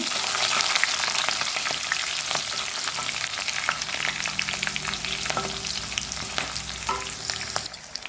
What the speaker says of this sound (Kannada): ಈರುಳ್ಳಿಯನ್ನು ಹಾಕೊಂಡಿದ್ದೇನೆ. ಈರುಳ್ಳಿ ಚೆನ್ನಾಗಿ ಫ್ರೈ ಆಗಿದೆ.